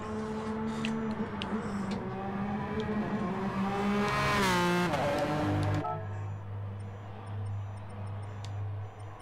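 McLaren F1 race car engines in the racing game GT Sport, a loud sustained roar that climbs in pitch, peaks and drops sharply before settling into a steady lower drone, close and continuous with no voices.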